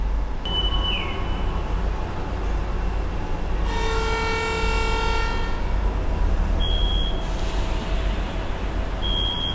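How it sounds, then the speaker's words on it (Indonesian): A steady low diesel rumble fills the scene as an airport rail link train sits at Adi Soemarmo, Indonesia, and begins to move, with brief high horn or buzzer tones sounding over it. "sepertinya keretanya akan diberangkatkan"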